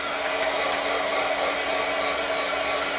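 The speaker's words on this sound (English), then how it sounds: "take my heat tool and just kind of flap it around on there and see if I can dry my paint" A heat tool blows steadily and loudly to dry paint on a bucket planter, giving an unbroken whooshing roar that stays even throughout.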